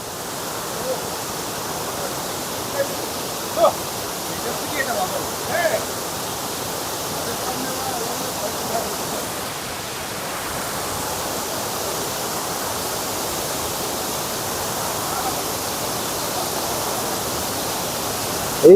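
A monsoon-swollen waterfall at Bhimkund roars as a steady broadband rush throughout, with a few faint voices briefly rising over it near the start.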